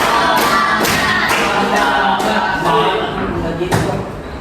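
A group follows a leader's counted clap game, landing sharp, loud unison claps in short spaced bursts while crowd voices call out loudly around them.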